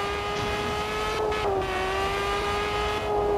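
A car engine in the Car Parking video game drones steadily at a constant pitch with its harmonics held throughout, shifting slightly around the middle, close and continuous with no talk over it.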